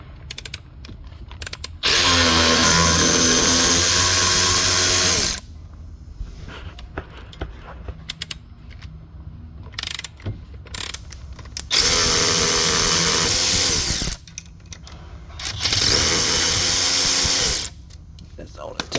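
A power tool spins bolts out of an Arctic Cat Wildcat 700 wheel hub in three loud, sustained whirring bursts separated by quieter gaps of clicking and handling noise.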